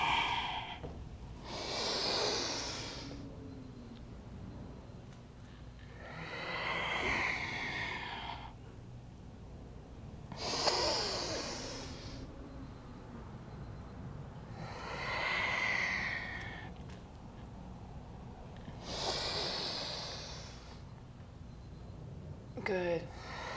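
Slow, audible yoga breathing during a vinyasa flow, with about five long breaths, each a deep airy inhale or exhale swelling and fading at regular intervals with quiet gaps between.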